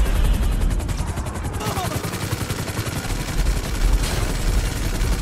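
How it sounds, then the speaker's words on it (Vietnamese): Sustained rapid machine gun fire in a modded GTA 5 game battle against a robot army, loud and continuous with dense bursts throughout, blending with a helicopter-like drone. "Súng máy không tác dụng với chúng."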